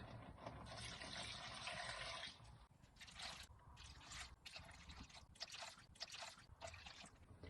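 Water pours steadily into a pot of potatoes for chicken soup for a couple of seconds, then comes in shorter splashing bursts with clinks of metal between them.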